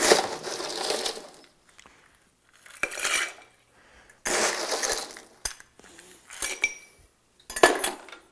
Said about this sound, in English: we're going to take and stir this drink up.